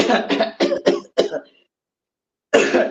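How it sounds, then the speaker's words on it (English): A rapid run of five harsh coughs in close succession, a brief silence, then another cough begins; close and fairly loud. "Had a coughing fit."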